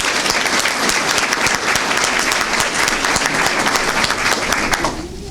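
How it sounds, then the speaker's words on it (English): A dense burst of audience applause at a school district press conference, many hands clapping loud and close for about five seconds before quickly fading out. "Give yourselves a round of applause."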